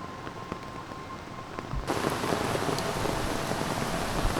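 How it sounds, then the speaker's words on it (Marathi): Steady rain pours down, growing much louder and denser partway through into a heavy, continuous downpour. "अजून पाऊस वाढलेला आहे"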